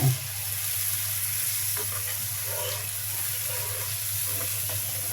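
Large river pangas fish from the Kirtankhola being added to broth in a pan, a steady bubbling simmer with soft splashes and low hiss, close and even throughout.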